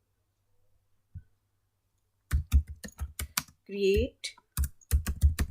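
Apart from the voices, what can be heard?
typing on a computer keyboard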